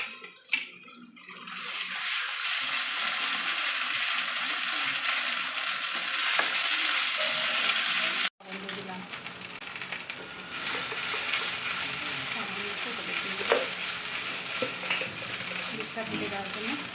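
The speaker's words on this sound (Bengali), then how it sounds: "তো দেখো আমি এই তেলের মধ্যে কালো জিরে ফোড়ন দিচ্ছি, আর এই পেঁয়াজটা দিয়ে দিচ্ছি" Nigella seeds, onion and a ground kharkon leaf paste fry in hot oil, a loud, steady broadband sizzle that holds for most of the clip with a brief dip near the middle.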